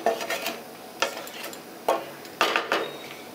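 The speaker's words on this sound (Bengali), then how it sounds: "মাংসের সাথে জল আর মশলাগুলো খুব ভালো করে এইভাবে মিশিয়ে নিলাম" Meat, water and spices are stirred together in a pot, with a string of close, uneven spoon scrapes and knocks against the metal over a faint background hiss and no voices.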